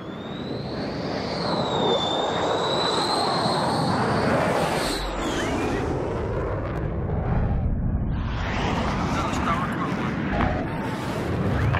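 A fighter jet lands at Nellis, its loud engine roar and rising whine filling the air, then fading and surging again, with radio talk over it.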